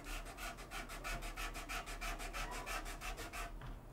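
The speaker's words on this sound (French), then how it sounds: "voilà, je la ponce légèrement" Light hand sanding over a slight ridge left by masking tape, a steady run of rhythmic abrasive strokes, close and even, continuing for several seconds before stopping.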